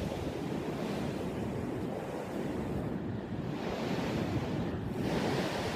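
Ocean waves roll steadily onto a foggy beach, a continuous broadband wash of surf with some wind noise and no voices.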